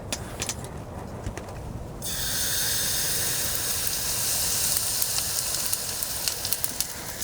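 A steady, broad sizzle rises suddenly as a pancake fries in a pan, continuing with faint crackles over a low background rumble, in strong wind at a tent camp.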